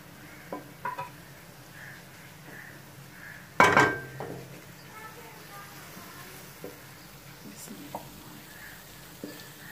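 Cooked bhindi masala scooped from a pan, with one loud metallic clank of utensil on pan and a few light clinks over a faint sizzle.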